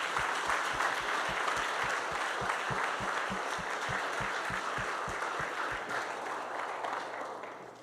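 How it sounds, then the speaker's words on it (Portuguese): Congregation applauding at a church service, a steady dense clapping that holds loud throughout, with a low rhythmic thump running beneath, fading slightly at the end. "dê um aplauso a Deus"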